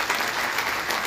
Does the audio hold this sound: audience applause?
yes